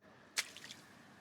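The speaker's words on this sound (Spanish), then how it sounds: "En cuanto a las plantas oxigenantes, flotantes o libres, basta simplemente con echarlas al agua de esta manera." Floating oxygenating pond plants tossed into a garden pond, landing with a single soft splash followed by a few faint trickles of water, close and brief against quiet outdoor background.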